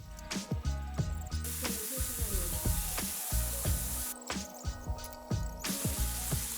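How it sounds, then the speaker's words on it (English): Sucuk, spicy Turkish beef sausages, stir-frying in a pan: a close sizzle and spitting, broken by repeated scraping and clacking as the pieces are moved around. "I stir-fry sujuks to make sujuk and eggs."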